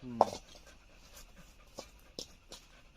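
A dog breathing in quick, audible pants, with a short whimpering yelp at the start, close by and otherwise quiet.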